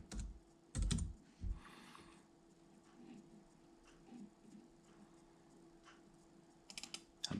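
Quiet typing on a computer keyboard, a few short clusters of key clicks at the start and end with a faint hum between, close and soft, no talk.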